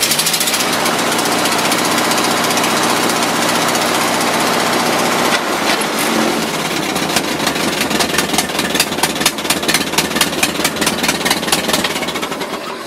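A 1952 Ford 8N tractor engine runs steadily nearby, a loud continuous rumble that shifts partway through into a faster, rattling, pulsing beat.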